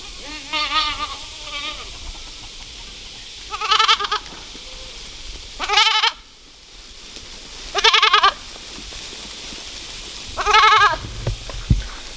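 Goats bleat in several separate, wavering calls spaced a couple of seconds apart, fairly close, with quiet gaps between them.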